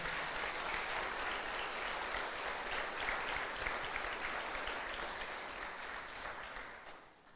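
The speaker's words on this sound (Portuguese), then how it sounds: "Vamos aplaudir Jesus maravilhoso." A church congregation claps in sustained, dense applause, loud and even throughout before fading slightly at the end, without speech over it.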